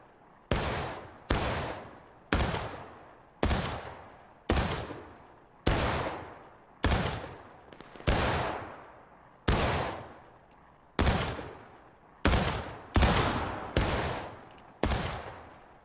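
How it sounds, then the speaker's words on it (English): A line of riflemen fires a ripple volley from left to right during training, about fifteen sharp, loud reports at an even pace, each followed by a short decaying echo. "Ripple fire starting from the left."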